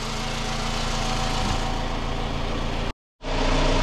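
A 2005 Toyota RAV4 engine idles steadily with an even rumble, briefly cutting to silence near the end before the hum resumes.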